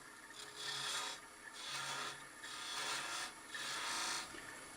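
Wood is shaped on a lathe to form the knob of a letter opener. Four soft, rhythmic rasping strokes repeat one after another, each lasting under a second.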